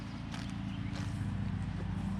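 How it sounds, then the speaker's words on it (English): A big horse walking close by, hooves clip-clopping in a steady, moderately loud rhythm over a low background hum. "It's a big horse."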